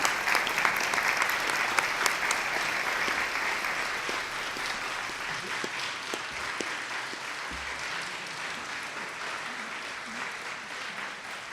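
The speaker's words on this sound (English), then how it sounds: "I would just like everyone to stand and applaud for her" Sustained applause from an audience at the City of Destiny Awards 2018 ceremony, a dense, even wash of many hands clapping that holds steady throughout, with no one speaking over it.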